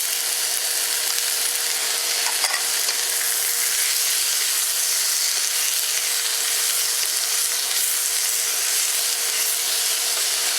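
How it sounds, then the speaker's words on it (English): Bamboo shoots, mushrooms and onions stir-frying in a wok on an induction cooktop give a constant, close, loud sizzle and hiss, with faint scraping from stirring and no voices. "And I'm going to let these cook in here, and I'm just going to keep stirring it around"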